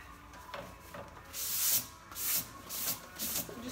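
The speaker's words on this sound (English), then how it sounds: "I just want to get all that sanding dust off of it" Close rubbing strokes of a cloth wiping sanding dust off milk-painted wood, several brushing swipes in an uneven rhythm, soft and nearby with no voices.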